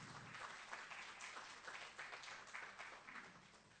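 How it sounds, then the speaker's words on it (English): A conference audience at an academic summit applauds steadily, a dense wash of many hands clapping together at moderate, even loudness throughout. "A round of applause."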